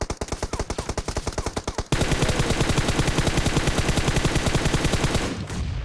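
Rapid automatic gunfire from the battle royale video game BGMI (PUBG), loud sustained bursts of evenly spaced shots, with a brief gap before a denser, heavier burst that continues almost to the end.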